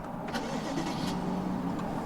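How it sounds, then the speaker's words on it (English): A 2014 BMW 750i's 4.4-litre twin-turbo engine turns over and catches, then settles into a steady mid-pitched running hum over a couple of seconds. "Start the car up real quick."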